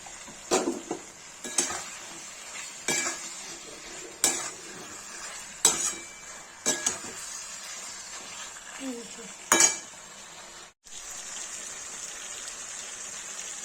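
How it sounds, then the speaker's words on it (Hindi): Brinjal is stirred into fried tomatoes in a pan for a Kashmiri-style tomato and brinjal dish. A spoon scrapes and clinks against the pan in scattered strokes over a soft, steady sizzle, heard close up. "टमाटर भून गया है, देखिए अब इसमें बैगन मिला देंगे।"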